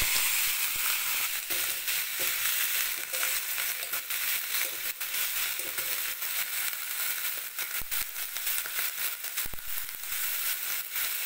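Ivy gourd tossed into hot oil already holding dried chillies and panch phoron, giving a loud, steady frying sizzle with crackling bursts throughout and no voices.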